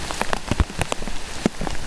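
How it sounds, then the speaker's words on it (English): Rain during a tropical storm, pattering loudly and unevenly with sharp close drops striking a nearby surface over a steady wet hiss. "I think the rain's increasing."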